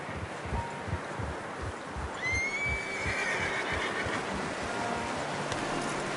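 A horse in Red Dead Redemption 2 lets out a single high whinny partway through, rising over soft outdoor ambience with light hoof clops and rustling.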